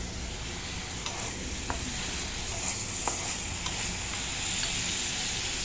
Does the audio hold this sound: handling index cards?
no